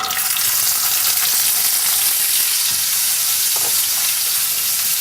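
Tomatoes fry in a hot sauté pan with a steady, dense sizzle and crackle that holds evenly close up, with faint stirring and no talk.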